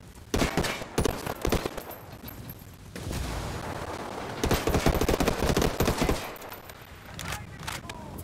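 Gunfire in the video game Ghost Recon Wildlands comes as loud bursts of automatic shots and scattered single cracks in several clusters, with players talking over the firefight.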